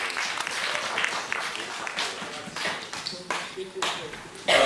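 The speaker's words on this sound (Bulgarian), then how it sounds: "Аплодисменти за това" An audience at a 2011 FCE certificate ceremony breaks into sustained applause, with dense, fairly loud clapping that rises and falls in waves.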